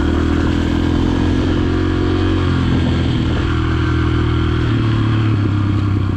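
A low-geared trail motorbike engine runs loud and close throughout, holding a steady low rumble with a slight shift in pitch partway, with no voices.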